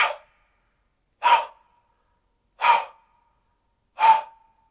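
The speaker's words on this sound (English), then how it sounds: "So try to say ha, and whisper it." A voice produces four whispered, breathy 'ha' exhalations, the open-mouth breath that starts a vocalized chest bass beatbox sound. They are evenly spaced about 1.4 seconds apart, close and clear, with silence between them.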